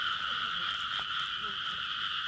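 Frogs croak in a steady, dense chorus at night in a Vietnamese field, a continuous high trilling drone with a few faint individual calls mixed in.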